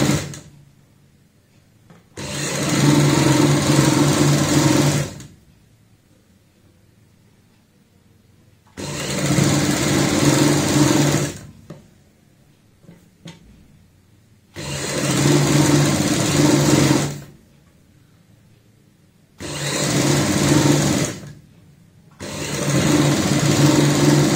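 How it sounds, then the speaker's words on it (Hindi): Sewing machine stitching kurti fabric with a half-inch seam, running in five bursts of several seconds each with quiet pauses between, close and fairly loud, no talk. "1/2 इंच की सिलाई से यहाँ पे जोड़ेंगे।"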